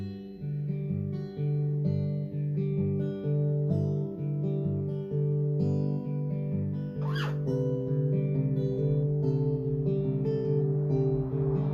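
A slow guitar melody plucked note by note, clear and close, with sustained tones ringing into each other throughout.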